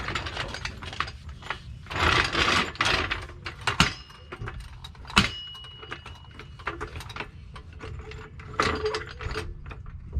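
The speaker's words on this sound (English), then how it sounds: "So I'm gonna get the jack up under here." A jack is worked up under the fuel tank of a Silverado pickup, giving off clustered ratcheting and mechanical clicks in uneven bursts with a few sharp metallic knocks, close by and moderately loud, with no talking.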